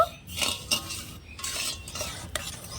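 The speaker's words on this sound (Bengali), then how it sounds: "সব কিছু ভালো করে মিশিয়ে চিনিটা গলিয়ে নেব" A spoon stirs sugar, water, saffron and cardamom together in a pan, scraping and clinking against the metal in repeated close strokes over a faint simmer.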